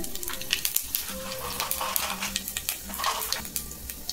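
Panch phoron spices crackle and sizzle in a little hot oil in a wok, a steady fry broken by quick popping and stirring scrapes, close and fairly loud, with no voices.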